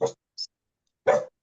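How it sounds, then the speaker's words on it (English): A dog barks in the background of an indoor room: two short, fairly loud yelps and a softer high chirp between them, with silence in the gaps. "Sorry, that's my dog in the background."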